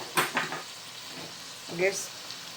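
Pomfret fish masala being stirred in hot oil in a pan: a soft continuous sizzle with a few scraping stirs and short bursts of speech over it.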